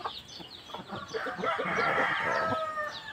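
Aseel chicken clucking and squawking up close, a run of sharp, agitated calls rising into a louder, drawn-out cry in the middle before settling.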